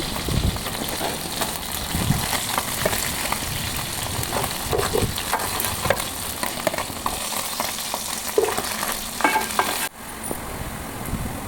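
Pieces of fish fry in a pan with a continuous crackling sizzle. Occasional spatula scrapes and stirs cut through the steady hiss, which stays fairly close throughout and dips briefly near the end.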